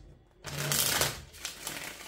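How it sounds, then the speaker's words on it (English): A deck of tarot cards is shuffled close by: one brisk, crisp riffle burst, then a few softer rustling flicks as the cards settle. "I'm going to give this one more shuffle"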